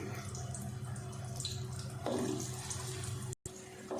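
Chopped onions and garlic sizzle in hot ghee in an eggplant curry pan, a steady close hiss with a brief clatter partway through and a sudden short dropout near the end.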